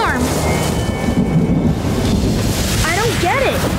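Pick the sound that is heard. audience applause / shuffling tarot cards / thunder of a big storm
thunder of a big storm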